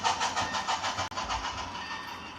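Model train locomotive sound from an Economy 21-pin sound decoder, a steady loud rhythmic chuffing with a quick regular beat and a brief dropout partway through, alone and close.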